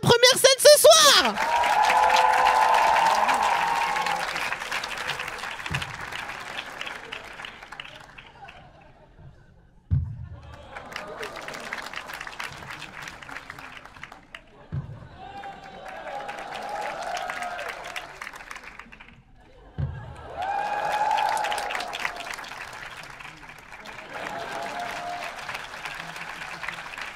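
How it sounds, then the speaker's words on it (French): A comedy club crowd gives thunderous applause for the comedian Ben PG as he makes his entrance at his first stage performance. Loud clapping and cheering comes in waves that swell and fade, broken up by short gaps and talk. "faites un tonnerre d'applaudissements pour Ben PG"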